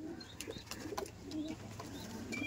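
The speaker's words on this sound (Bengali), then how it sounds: "এত অ্যাগ্রেসিভ পায়রা, কালা সবুজ পায়রা" Aggressive black-green male pigeon cooing while held in the hand, soft low coos repeating amid rustling and handling bumps, close and fairly quiet.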